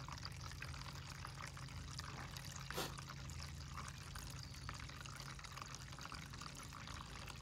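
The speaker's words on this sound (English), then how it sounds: "This one here, we got water running everywhere." Water runs and trickles into a planting hole in a vineyard, a continuous close wash with one brief louder splash partway through.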